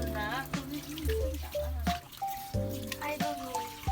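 Water runs from a tap while hands are rinsed in a household sink, a steady splashing trickle with drips and small bursts, close and clear, with faint voices now and then.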